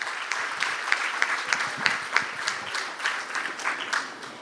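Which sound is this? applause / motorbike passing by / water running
applause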